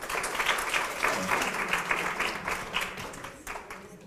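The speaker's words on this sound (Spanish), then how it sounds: "Un aplauso para el grupo." A group of participants applaud in a coaching course for teachers at Universidad Miguel Hernández de Elche, a few seconds of rhythmic, moderately close clapping from a modest crowd that thins toward the end.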